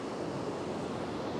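Ocean waves break over a sandbar beside a rip current, a steady, dense wash of surf and white water filling the scene, with some wind rumble on the microphone and no voices.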